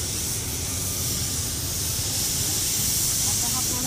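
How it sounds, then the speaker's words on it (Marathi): Onion and tomato for a crab masala fry in hot oil, producing an even, continuous hissing sizzle that stays steady and fairly close from start to finish. "कांदा जरा लालसर होईपर्यंत फ्राय करून घेते"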